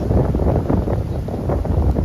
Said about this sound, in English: This summer is really windy.